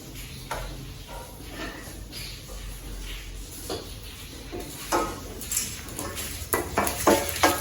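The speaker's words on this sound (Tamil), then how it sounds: "இந்த கடுகு மிளகுலாம் கொஞ்சம் பொரியட்டும்" Mustard seeds and black pepper dry-roast in a pan, crackling and popping in scattered bursts that grow busier toward the end, with light scraping of a utensil against the metal.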